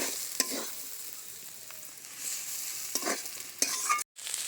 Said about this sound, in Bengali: ডিম দিয়ে একেবারে দেখুন ঝরঝরে করে ভেজে নিয়েছি, আর সাথে কারি পাতা দিয়েছি।